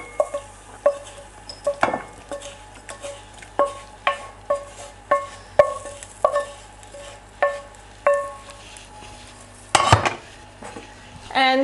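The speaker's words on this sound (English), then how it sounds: "I'm going to put them into my bowl that I've removed the pine nuts to" A metal spoon repeatedly scrapes and taps against a mixing bowl as cooked mushrooms are transferred in, giving a steady series of sharp clinks about every half second, with a louder clatter near the end.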